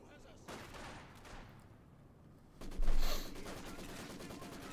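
Maxim machine guns fire in the Company of Heroes 2 battle, bursts of gunfire building to a louder volley midway under a commentator's voice.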